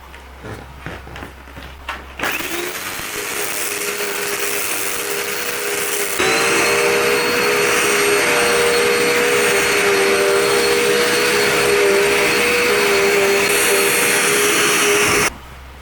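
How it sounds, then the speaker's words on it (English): A vacuum cleaner is switched on after a string was cleared from it, whirring loudly with a steady high whine, a brief pitch step partway through, then cutting off abruptly. "Now let's see if the vacuum runs any better."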